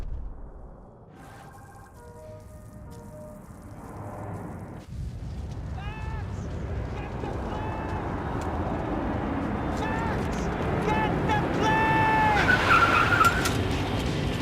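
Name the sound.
car driving, video game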